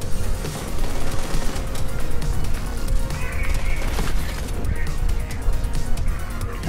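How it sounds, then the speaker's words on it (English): Gunfire from shooting enemies in Borderlands 3, scattered shots and impacts over a busy, noisy battle mix, loud and continuous without clear pauses. "Just gonna get close and basically shoot him down."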